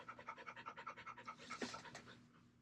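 A dog pants right at the microphone in a steady run of quick, breathy huffs. The panting is faint and continuous and is heard alone.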